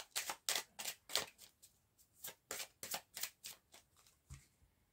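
Oracle cards shuffled and dealt in a quiet room, a run of crisp riffling snaps and slides in quick bursts, close and clear with no voice over them.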